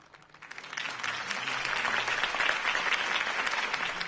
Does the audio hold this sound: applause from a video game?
yes